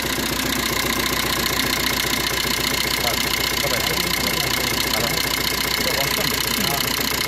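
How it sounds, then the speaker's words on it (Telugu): A Maruti Swift Dzire engine runs with a low-pickup fault that keeps it from revving freely, a steady close mechanical idle with rhythmic knocking vibration. "ఇప్పుడు బండి మనకి రేసింగ్ కంప్లైంట్ ఉంది కదా, ఫ్రీగా రేజ్ అవ్వట్లేదు కదా."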